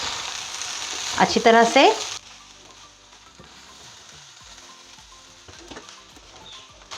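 Chicken fried rice with added white vinegar is stirred in a hot pan, a quiet steady sizzle and scraping under a brief spoken phrase at the start.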